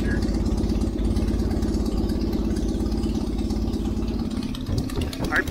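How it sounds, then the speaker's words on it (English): A Minimax 1100R wooden aircraft's engine idles with a steady, loud, low thrumming pulse and slightly uneven RPM, recorded close by for several seconds. "we've got the engine running"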